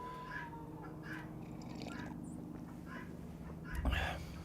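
A pet guinea fowl named Wendy calls outdoors at an animal-friendly Sunday gathering, her repeated honking cries coming in short bursts at moderate distance over a low hum and faint background talk.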